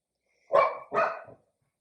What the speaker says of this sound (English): My dogs are going crazy this morning. They're barking at the cars driving past